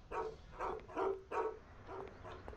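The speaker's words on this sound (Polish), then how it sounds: "Spokojnie, pieski." Several dogs bark in the Mafia video game, a string of about six barks in quick succession at moderate distance, sharp and fairly loud with short gaps between them.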